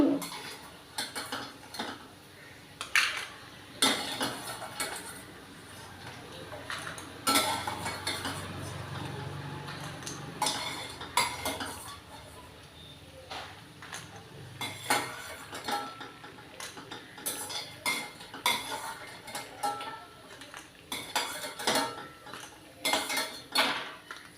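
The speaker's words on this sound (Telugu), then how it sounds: "మినప వడియాలు ఇవి ఒక బౌల్లో తీసేసుకోవాలి తీసేస్తున్నాను" Fried urad dal vadiyalu are scooped from hot oil into a bowl, giving repeated sharp metallic clinks and scrapes of a spoon against the pan and bowl, with uneven rhythm and a faint background sizzle.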